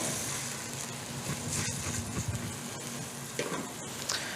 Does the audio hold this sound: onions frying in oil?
yes